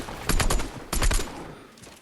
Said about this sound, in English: whilst I'm shooting him, I'm using up all my ammo